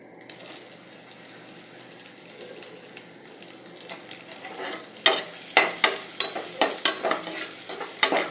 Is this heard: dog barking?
no